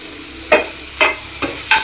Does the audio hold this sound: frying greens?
yes